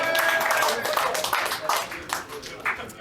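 A comedy show audience clapping, a steady crackle of hand claps that fades in waves, heard beneath people talking and a faint musical tone.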